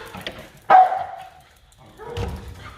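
Dogs give a few sharp barks and yips at moderate distance, with a brief whimper between them and no one speaking.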